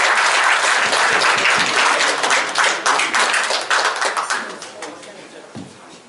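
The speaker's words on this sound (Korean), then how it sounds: "우리가 예의를 갖춰서 환영의 박수를 보내드리겠습니다" An audience gives Professor Kim Hyung-seok a welcoming round of applause at a forum lecture, dense clapping that thins into scattered claps and fades out.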